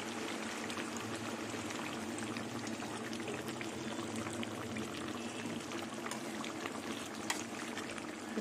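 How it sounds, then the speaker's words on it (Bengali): Raw mustard oil poured into a simmering fish and stalk curry in a pan, a steady soft pouring and bubbling hiss that continues evenly throughout at low volume. "2 চামচের মতন কাঁচা সর্ষের তেল দেবো।"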